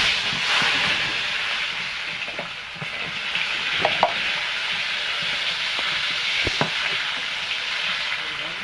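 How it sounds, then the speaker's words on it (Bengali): Radish slices frying in a pan give a steady broadband sizzle with occasional faint clicks and stirring taps, close and continuous with no talking. "সবগুলো এভাবে ভাজা করে নেব"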